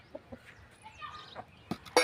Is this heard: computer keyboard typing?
no